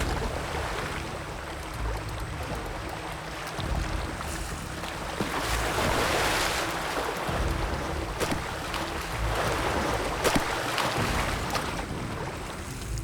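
Waves churned up by hunting orcas wash over Antarctic pack ice, a continuous broad sloshing rush that swells and recedes with occasional sharper splashes, no voices.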